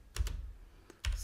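A handful of key presses on a computer keyboard while a command is entered in an administrator command prompt: two quick taps, a faint lone click, then another short pair, all close and fairly quiet with no talk.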